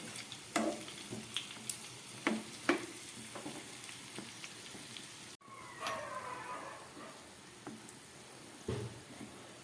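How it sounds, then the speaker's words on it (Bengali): Lobongo latika, traditional Bengali sweets, fry slowly in oil over a very low gas flame, giving a faint, soft sizzle broken by occasional light clicks of stirring and turning. "খুব ধৈর্য ধরে গ্যাস একদম কম করে এগুলোকে সুন্দরভাবে লাল করে ভেজে নিতে হবে"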